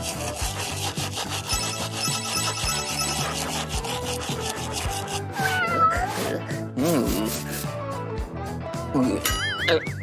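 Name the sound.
cat meowing while being brushed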